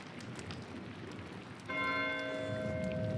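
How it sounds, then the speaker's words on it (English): Monastery bell in Pentiment struck once after a quiet stretch of rainy ambience, a clear resonant clang whose long ringing tone sustains to the end. "Why is Matthew ringing the bell?"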